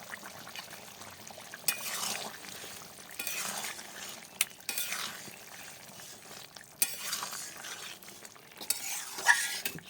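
Mutton curry sizzles and gets stirred in a pan, with repeated scraping bursts of a spoon against the pan over a steady frying hiss and a few sharp clinks, close and fairly loud, with no talking.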